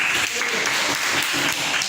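Classroom students applauding together, a dense burst of close clapping that fills the whole short stretch at even loudness.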